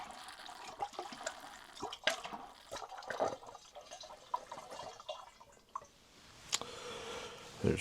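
Eagle Rare bourbon glugs from bottles into a barrel without a funnel, giving quiet irregular pours, splashes and drips close by.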